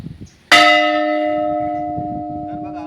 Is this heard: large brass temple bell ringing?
yes